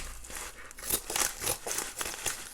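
A paper envelope is torn open with irregular crinkling and ripping bursts, fairly close and soft, over about two and a half seconds.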